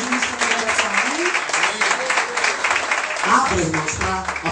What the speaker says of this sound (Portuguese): Vamos aplaudir o Senhor porque ele é vitorioso.